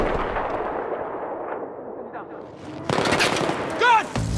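Gunfire in the video game Battlefield 3 crackles under shouted voices in a tense combat scene, with a sharp, louder burst of shots toward the end.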